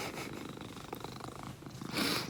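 A pet cat named Monkey purring close up during a morning cuddle, a soft continuous rumbling purr with a slight rise near the end, no talking.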